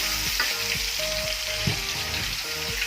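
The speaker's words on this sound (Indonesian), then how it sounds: "Kita masukin aja bumbu ini, bumbu kari ini. Kita tumis sejenak." Curry spice paste sizzles and crackles steadily in a hot pan as it is sautéed for a chicken katsu curry sauce. Occasional stirring clinks sound close by.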